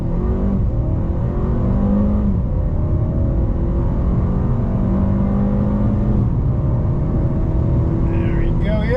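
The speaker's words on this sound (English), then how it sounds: "we'll do a little test run from 0 to 60" A Mercedes-Benz CLA 250 4MATIC turbo accelerates hard from a standstill toward 60 mph, its engine note rising through the gears as a loud, steady drone with road and cabin rumble, and a voice speaks over it.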